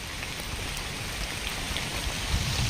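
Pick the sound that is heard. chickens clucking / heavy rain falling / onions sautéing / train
heavy rain falling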